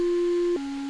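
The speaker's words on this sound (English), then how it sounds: "we also have this build-up lead" Square-wave build-up lead synth holding one bright buzzy note, then dropping to a lower sustained note, loud and solo.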